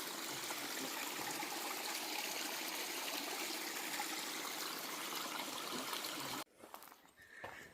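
Steady, close rush of flowing water from a cold stream on the Superior Hiking Trail, broadband and continuous, cutting off abruptly near the end to quieter rustling.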